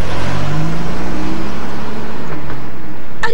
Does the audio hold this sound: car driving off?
yes